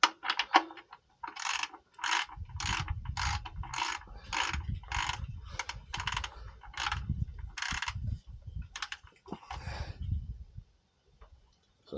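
A socket wrench ratchets in repeated quick bursts, about a dozen rhythmic clicking strokes close by, while working on a classic car during a service, with low thuds under the clicks and no talk.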